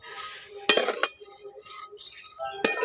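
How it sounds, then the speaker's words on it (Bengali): Vermicelli fries gently over low heat in a pan as a metal utensil stirs it, giving a few sharp clinks and scrapes against the pan over a soft, steady sizzle. "এইরকমভাবে সিমাইটাকে ভাজতে হবে ভালো করে আর খুব হালকা আঁচে ভাজতে হবে"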